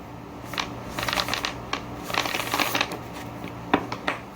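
A deck of cards is shuffled close up in several riffling bursts, crisp papery flutters separated by brief pauses.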